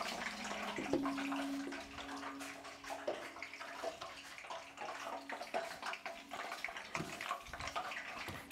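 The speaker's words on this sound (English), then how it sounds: "all that popping and the bubbling is from the water" Hot oil deep-frying fish for fish and chips pops and bubbles steadily, a dense crackling sizzle with scattered sharper pops, fairly quiet and continuous with no talk.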